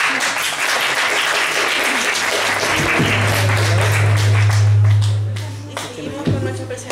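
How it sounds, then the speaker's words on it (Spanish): Audience applause for a student group at a school presentation on building paper prisms, loud and continuous clapping with a low hum running through the middle and a few sharp taps near the end. "le damos un fuerte aplauso"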